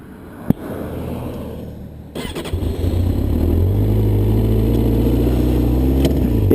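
A Triumph motorcycle engine starts after a brief click and crank, then settles into a loud, steady, close idle rumble with no talking.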